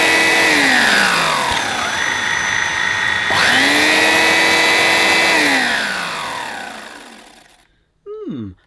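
A Hoover Brushvac handheld cordless vacuum cleaner runs loud and close with a steady motor whine. Its pitch sweeps down and back up as it is switched or loaded. It then winds down and stops, followed by a brief clatter.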